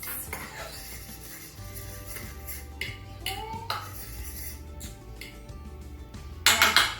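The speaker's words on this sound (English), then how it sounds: "take a fork, go in my dry ingredients, and I'm just going to mix up all those spices" A fork scrapes and clinks against a dish while stirring dry ingredients and spices for chicken fried steak, with steady metallic tapping and scraping, then a sharper burst of clatter near the end.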